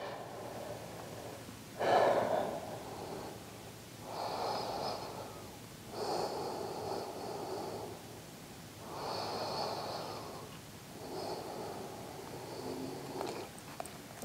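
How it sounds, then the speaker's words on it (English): During a Pilates reformer exercise, a person breathes in through the nose and out through the mouth, slow audible breaths repeating about every two to three seconds, close and fairly soft, with no talking. "I'm breathing in through my nose, out through my mouth."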